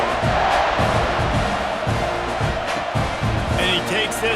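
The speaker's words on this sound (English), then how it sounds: "this crowd is buzzing after that last score" Stadium crowd in College Football 26, Texas A&M versus South Carolina, a loud continuous buzz and roar filling the clip with a commentator talking over it.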